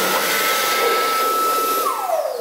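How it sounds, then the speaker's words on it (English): An automatic hand dryer in a heavily used college bathroom blows with a loud, continuous whooshing roar that winds down at the end with a falling whine, no talking. "It's an automatic hand dryer."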